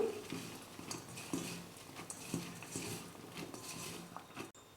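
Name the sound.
mixing sliced onions, green chillies and curry leaves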